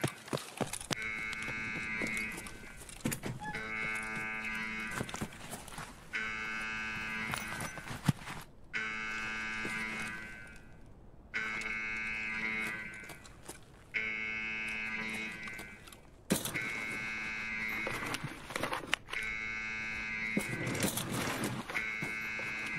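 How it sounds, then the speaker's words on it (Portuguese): A repeating alarm in Escape from Tarkov, a harsh buzzing tone sounding in steady pulses of a few seconds each with short gaps, moderately loud and continuing throughout. "Dizer que esse alarme já foi mais alto, pois é."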